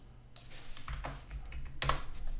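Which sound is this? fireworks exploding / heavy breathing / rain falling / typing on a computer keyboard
typing on a computer keyboard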